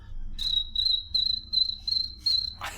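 A high, steady whistle imitates a cricket, pulsing in regular chirps about twice a second, close and clear, ending with a brief rustle.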